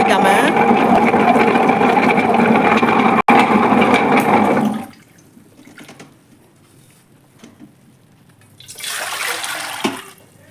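Water is poured to rinse the stone of a Shantha wet grinder, a loud continuous gushing splash that stops suddenly, followed by quieter dripping and a second brief splash.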